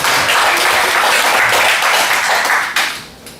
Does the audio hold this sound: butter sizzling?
no